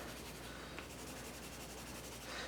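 A red Prismacolor colored pencil drawing on paper, quiet rapid back-and-forth scratching strokes in a steady rhythm, close and faint.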